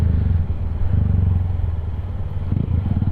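A motorcycle engine drones close and loud while riding through congested traffic, a rough steady rumble with slight rises and clattery surges, no talk heard.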